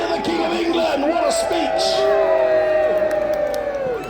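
A loud crowd at a Battle of Hastings reenactment cheers for the King of England, with massed shouts, whoops and bellowing voices sustained for several seconds close by.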